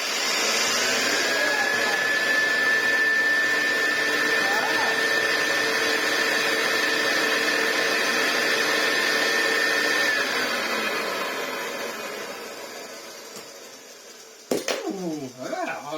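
A 1970s Hoover Senior 6525c vacuum cleaner, saved from scrap, runs with a steady loud motor whine and a constant whistling tone, then winds down to a fading hum before a few clattering handling noises.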